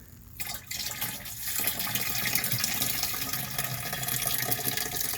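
Liquid bio-stimulant of RGS and humic 12 poured into a jug already holding about half a gallon of water, a steady close splashing, gurgling pour that builds after a brief start and continues throughout.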